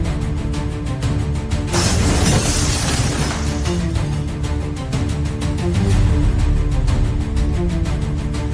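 A burst of shattering glass as a car crashes into a storefront, over a dense, busy background, the bright crackle lasting about two seconds before fading back into the din.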